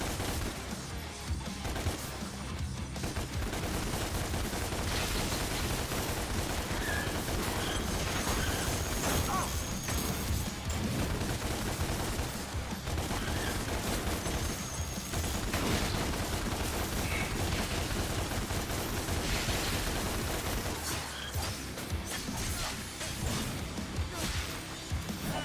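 Continuous loud combat noise from the video game Devil May Cry, with repeated gunshots mixed with crashes and mechanical clanks that run unbroken over the whole stretch.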